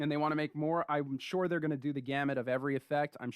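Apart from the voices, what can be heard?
None of the usual background noises is heard.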